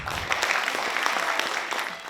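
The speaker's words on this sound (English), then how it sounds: "Please give her a round of applause" Audience applause welcoming a performer at a school spoken word poetry event, steady dense clapping from a crowd of moderate size, heard throughout at a moderate level with no talking.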